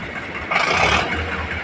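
A 2023-model tractor engine runs at the Talwandi tractor market, a steady close rumble that swells into a louder, rougher burst for about half a second before settling back.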